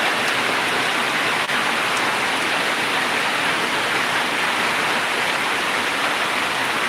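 Heavy rain pours during a Kalbaishakhi storm in a village in Muradnagar, Comilla, as a loud, unbroken roar of drops on surfaces with no pauses.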